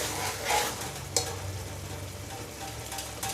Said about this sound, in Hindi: अब इसको 1-2 मिनट भून लेते हैं।